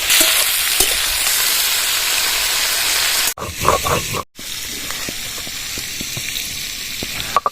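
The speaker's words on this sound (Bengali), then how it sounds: "আলু আর পটল ভাজার সময় একটু লবণ দিয়ে ভাজলে সিদ্ধটা ভালো হয় আর ভাজাটাও তাড়াতাড়ি হয়ে যায়।" Potatoes and pointed gourd fry loudly in a pan with a little salt, giving a dense, steady sizzle. The sizzle breaks off briefly for a few stirring crackles and a moment of near silence, then resumes.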